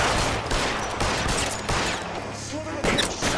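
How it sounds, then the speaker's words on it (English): Rapid gunfire crackles in the L.A. Noire video game, bursts of sharp shots repeating throughout a short firefight, loud and close, with a voice heard briefly among the shots. "Son of a bitch shot me!"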